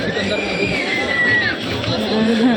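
Dense crowd babble at a busy fair, many overlapping voices close and steady throughout with no single voice standing out.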